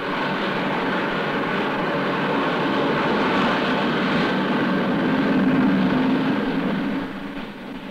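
A U.S. Navy T2V-1 jet trainer in flight gives a steady, loud, broadband jet roar that holds even for several seconds before easing slightly near the end.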